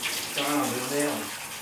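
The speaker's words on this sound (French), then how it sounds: "je prends une douche" Shower water running at home, a steady close hiss of spray with a faint murmur of voice underneath.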